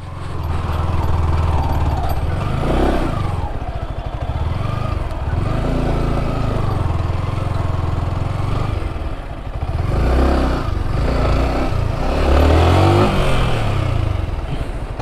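A Yamaha R15M motorcycle engine revs hard at close range, with a throaty, pulsing roar that rises and falls in several surges across the whole stretch and no talk over it.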